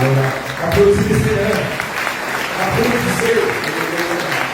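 An audience applauds at a Christian gathering, a swell of clapping under a voice speaking in French, moderately loud and steady.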